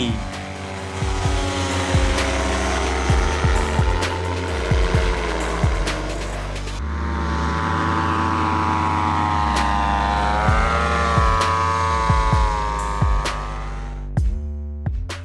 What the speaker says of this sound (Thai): ออกตัวไปแล้วสำหรับเดอะไจแอนยักษ์สุดยอดฝีมือแห่งร่มบินกระสิน วินิเชเครื่อง e m a x 220 พร้อมด้วยร่มพรามาเนีย GT